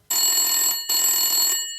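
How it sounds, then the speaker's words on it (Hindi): A telephone bell rings in two brisk, bright bursts separated by a short gap, close and clear with no talking. "एक बार फिर घंटी बजती है"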